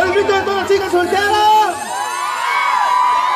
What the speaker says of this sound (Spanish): El grito de todas las chicas solteras.